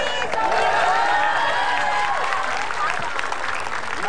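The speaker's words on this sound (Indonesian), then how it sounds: "Tepuk tangan dulu dong." A studio audience at a television comedy talk show applauds and cheers steadily throughout, with voices mixed into the continuous crowd noise.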